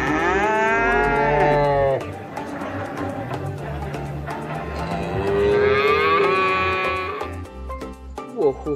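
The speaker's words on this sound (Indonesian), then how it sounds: "Wohuhu, kerbau guys." A buffalo moos loudly and close by, two long drawn-out lowing calls separated by a short pause.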